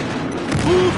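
Rapid gunfire bursts from the video game Battlefield Hardline on the Downtown map, a SCAR-H rifle in play, loud and close with a booming tail and a brief whine of game effects.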